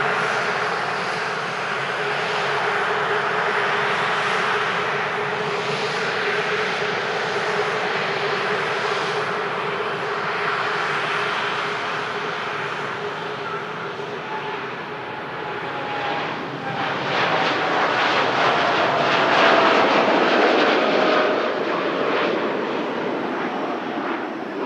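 A Boeing 787-10 jet bound for Jeddah climbs out of Manchester Airport, its broad engine roar droning steadily and then swelling louder near the end as it passes.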